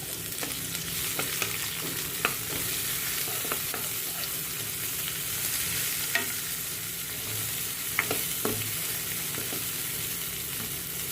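Finely chopped medium onion frying in hot oil with cumin and asafoetida, a steady soft sizzle with occasional sharp clicks and scrapes of stirring, close and alone without voices.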